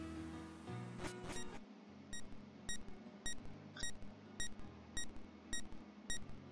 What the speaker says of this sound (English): What the fuck is that beeping?